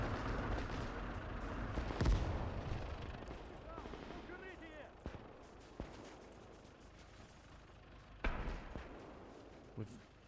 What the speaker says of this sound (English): Oh, mortars are definitely active, as you could tell.